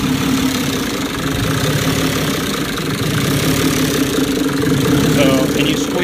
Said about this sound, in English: The engine is up to normal operating temperature and we have a radiator hooked up to it